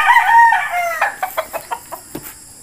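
A Beetles White gamefowl rooster crows loudly and close by, then breaks into a quick series of sharp, rhythmic clucks.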